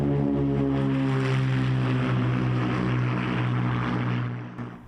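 A propeller airplane engine drones steadily in flight, a loud, even buzz with strong tonal harmonics filling the cabin, easing slightly toward the end.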